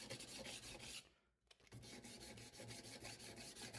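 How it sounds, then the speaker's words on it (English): Hand sanding a knife blade with abrasive paper in single strokes along its length makes a steady, close, rhythmic rasping, with a short pause partway through before the strokes resume. "I switch to sanding in a single direction along the length of the blade."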